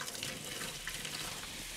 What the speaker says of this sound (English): just wash your hands